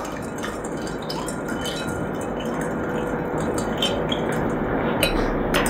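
Lemon juice and salt being stirred into a basin of water, a continuous sloshing swirl of liquid with light clinks and taps against the container, no voices.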